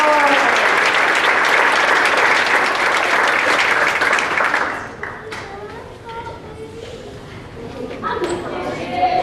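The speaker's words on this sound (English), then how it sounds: "Another round of applause!" A crowd applauds loudly for award winners for several seconds, then the clapping fades to scattered claps and murmuring voices before picking up again briefly.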